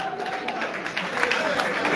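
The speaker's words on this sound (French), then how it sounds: "est-ce qu'on peut l'applaudir bien fort?" An awards-ceremony audience applauds a comedian, a steady wash of clapping and crowd noise at moderate volume spread across the whole moment.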